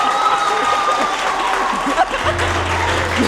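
An audience at a university debate club talk on public speaking applauds in a brief, steady wash of clapping, with a low hum and faint tonal sounds running underneath.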